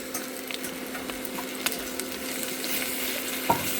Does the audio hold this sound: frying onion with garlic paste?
yes